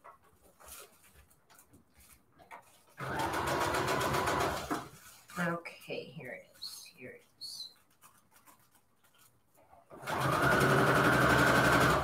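A sewing machine stitches string quilt junk journal covers in two loud, close bursts of steady whirring. Between the bursts a dog whimpers and barks.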